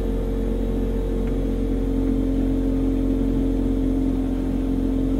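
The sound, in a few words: American Harvest corn stove auger motor running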